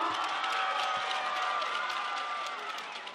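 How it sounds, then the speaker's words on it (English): A crowd at a Manawatū Jets versus Otago Nuggets basketball game cheers and claps continuously in a dense, reverberant arena wash, fading slightly toward the end. "let's cheer them on"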